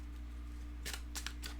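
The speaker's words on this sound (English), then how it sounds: "if no cards pop out, then I just shuffle 3 times" A tarot deck shuffled by hand three times, heard as three short, soft riffling bursts spaced about a quarter second apart over a quiet background hum.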